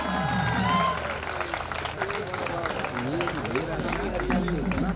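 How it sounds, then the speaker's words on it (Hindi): A college audience at an annual function applauds a non-academic staff member with dense, continuous clapping and some cheering, while a voice keeps talking over the crowd. "हरि भैया के जोरदार तालियां।"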